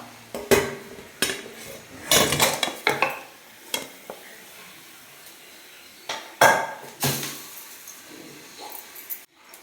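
Kitchen clatter of a plate being picked up and set down to serve a cooked South Indian breakfast, with sharp clinks and scrapes of dishes and utensils in irregular bursts, close and fairly loud, with a faint sizzle underneath.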